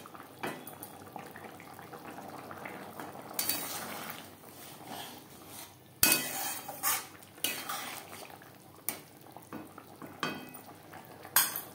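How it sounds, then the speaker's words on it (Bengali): A spoon scrapes and clinks against a pan while kasuri methi and garam masala are stirred into a bubbling egg and potato gravy, with irregular metallic knocks over a soft simmering hiss. "গ্রেভির সাথে কাসুরি মেথি ও গরম মশলা পাউডার বেশ ভালো করে মিক্সড করে দেব।"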